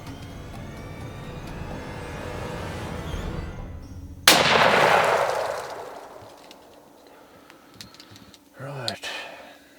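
A single rifle shot cracks loudly partway through a nighttime leopard hunt, its blast trailing into a long fading rumble, with quiet murmuring and shuffling beforehand and a short sharp noise near the end.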